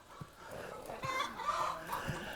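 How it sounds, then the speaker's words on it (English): Chickens in a chicken house squawk and cluck in a busy, overlapping chorus, with sharp calls rising repeatedly over a steady background of flock noise, close and fairly loud. "them chickens had to start squawking"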